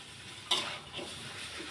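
Duck is stir-fried in a wok: a quick metallic scrape and stir, then a soft sizzle, faint and brief.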